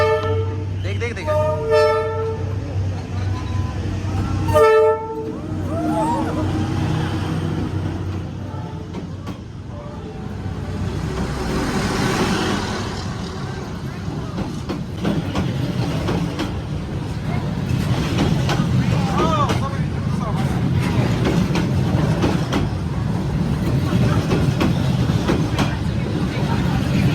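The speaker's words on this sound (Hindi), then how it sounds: "तो गाइस अब हम ट्रेन देख चुके हैं" A train rolls slowly through Hanoi's narrow Train Street, sounding its horn in several toots at the start, then a loud rumbling, clattering passage up close amid crowd chatter and voices.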